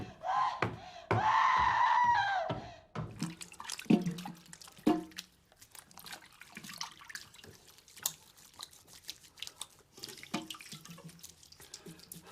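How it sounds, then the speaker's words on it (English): Water poured out of a vessel in a farmhouse kitchen, a loud gushing splash for about two seconds, then scattered drips, knocks and quiet movement. "Now pour out that water, quick!"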